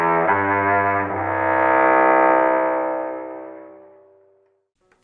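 A single long note bowed on a cello string swells and then slowly fades away, rich and resonant, played alone.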